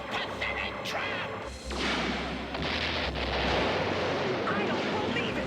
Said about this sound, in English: Activate the particle beam cannon!